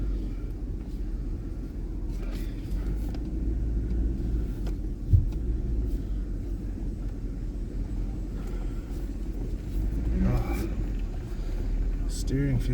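A Ram Hemi Sport pickup truck being driven, its low engine rumble and road noise held steady from inside the cab, with a person talking over it.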